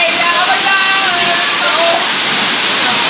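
Dense, steady rush of heavy rain or pouring water, loud and continuous throughout, with faint voices mixed into the downpour.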